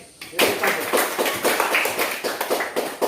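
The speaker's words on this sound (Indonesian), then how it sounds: "tepuk tangan untuk kelompok yang ini" A classroom of students claps for a presenting group, giving a series of distinct, fairly regular claps after a short quiet start, with voices mixed in.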